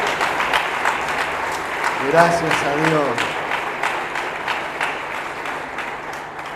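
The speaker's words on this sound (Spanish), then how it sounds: "Le damos un aplauso de bienvenida." A church congregation gives a welcoming round of applause to first-time visitors, steady clapping from a crowd filling the room while a voice speaks over it.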